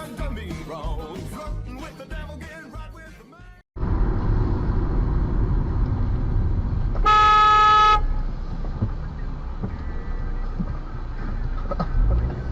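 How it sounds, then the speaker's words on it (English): A car horn blares in one sustained honk of about a second midway through, loud and close, over continuous road and engine rumble heard from inside a vehicle. "Did you honk at me?"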